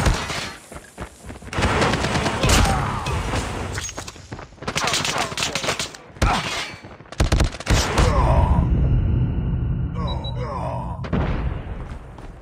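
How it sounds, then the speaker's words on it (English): An automated sentry gun fires in the Call of Duty video game, long rapid bursts of gunfire with booms, near and loud, under in-game voices and a shout. "Be advised, hostile sentry gun spotted."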